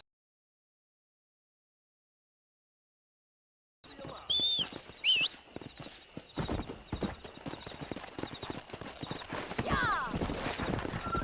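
Horse hooves clip-clop at a steady riding gait in the PS4 game Red Dead Redemption, starting abruptly after nearly four seconds of silence, close and prominent, with a brief whinny and a voice speaking over the ride.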